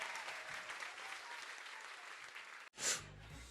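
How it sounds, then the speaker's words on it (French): A live radio studio audience at an Axelle Red showcase gives a standing ovation, dense applause that cuts off abruptly near the end and gives way to a short burst of another sound. "Ah oui, vous pouvez vous lever, hein, allez-y, hein, applaudissements,"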